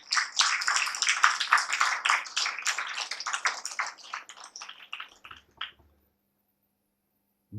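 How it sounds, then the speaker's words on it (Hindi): A meditation-centre audience claps in a quick, dense burst that fades over several seconds to a few scattered claps, then silence. "तालियां बजाएंगे तो ऐसे ही होगा"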